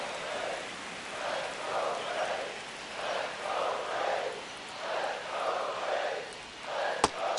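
A baseball stadium crowd in the video game MLB The Show 25 late in a one-run ninth inning, a sustained roar that swells and dips in waves, with one sharp crack near the end.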